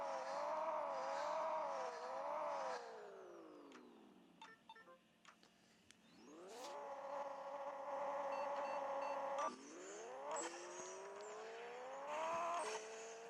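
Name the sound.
race car engine revving in video game Pixel Car Racing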